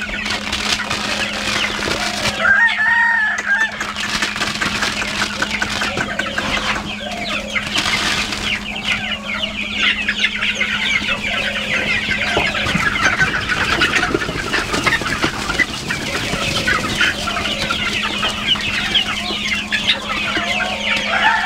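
Small Sonali chickens cluck in a dense, constant chorus on a farm as they are fed, the calls close and busy throughout, over a steady low mechanical hum.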